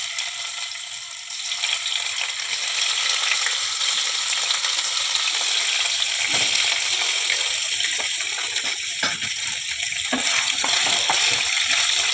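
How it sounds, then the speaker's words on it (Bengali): Paneer pieces frying in white oil in a pan give off a loud, steady crackling sizzle that runs throughout with no talking. "আমি এবারে সাদা তেলে পনিরগুলো ভাজবো"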